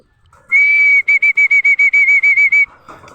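A person whistles to call pigeons to their feeding, one long sustained tone followed by a rapid series of about ten short, evenly spaced whistle bursts, loud and close, with no talking.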